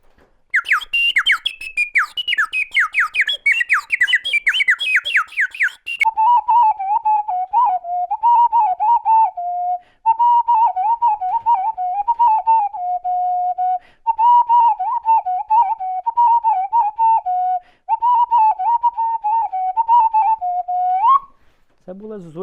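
A soloveiko, a water-filled clay whistle imitating a nightingale, trills loudly and close: first rapid bubbling chirps, then a long series of warbling whistled phrases with brief pauses, played alone.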